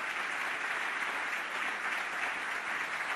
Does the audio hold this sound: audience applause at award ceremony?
yes